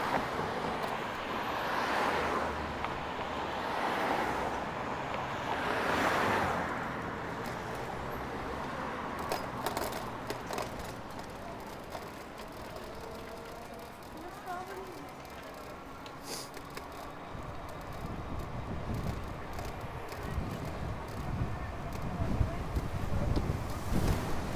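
Strong wind buffets the microphone while riding an e-bike on Toronto streets, a continuous roaring rush that swells and eases, with passing traffic and occasional faint voices.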